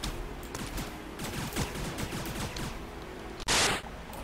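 Rapid gunfire from a Starbound video game battle, a dense run of quick shots rattling on for several seconds, then a short sharp loud burst near the end.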